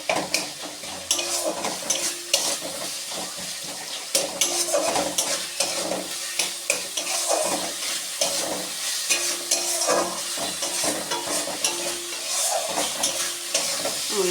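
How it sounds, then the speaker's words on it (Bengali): Ginger paste masala stir-fried over a high flame, a busy sizzle broken by frequent sharp scrapes and clinks of a spoon against the pan, close and continuous. "এবার হাই ফ্লেমে দিয়ে কষিয়ে নেব।"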